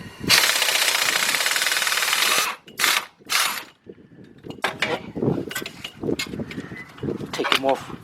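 A ratchet or impact tool working bolts on the front axle of a 2006 Kia Sorento LX, a long loud whirring burst followed by shorter bursts, then scattered clicks and metal handling close by.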